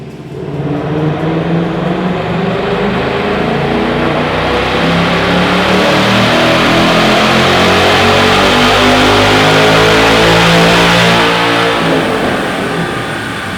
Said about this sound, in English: So we ran on the dyno at Steeda.